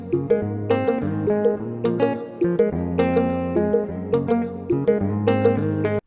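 Afrobeat guitar parts layered in FL Studio, a bright pluck sound over a muted guitar, play a busy syncopated groove with a low bass pulse underneath, dense and continuous with no talking.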